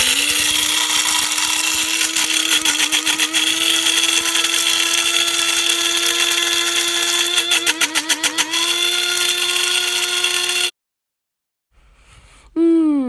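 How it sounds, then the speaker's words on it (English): A dry blender crushing a peppercorn medley and iru roars loudly and steadily, its motor pitch shifting slightly as hard grains rattle inside, then cuts off abruptly before a brief restart. "Trying to crush this peppercorn medley and iru in the dry blender"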